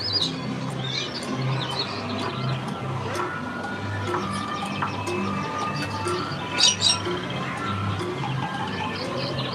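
Scattered bird chirps and tweets sound over a busy, murmuring crowd background at Disneyland, with a louder burst of calls near the end.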